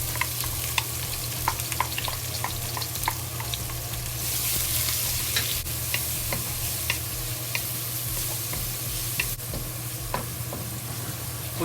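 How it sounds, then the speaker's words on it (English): Leek pieces fry in hot oil in a wok for a tomato, egg and dumpling soup, giving a steady soft sizzle with scattered crackles and a few light stirring clicks, with no talking. "Okay, the oil is ready. We fry the leek first."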